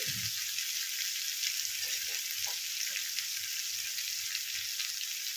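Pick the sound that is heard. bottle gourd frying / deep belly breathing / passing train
bottle gourd frying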